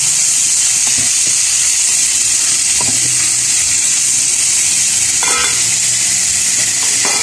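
Chayote being stirred and sautéed in a pan gives a loud, constant sizzle and hiss, with a few soft scrapes and clinks from stirring close by.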